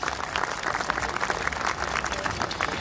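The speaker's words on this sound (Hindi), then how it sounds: "एक दफा जोरदार तालियां" Strong, steady applause from a crowd at a university fundraising program, dense clapping filling the whole stretch without any speech over it.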